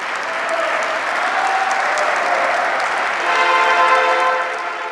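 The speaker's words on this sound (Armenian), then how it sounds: "Ծափերը չդադարեցին" Sustained applause at a state medal ceremony, a dense even wash of many hands clapping that swells slightly toward the end, with no voices on top.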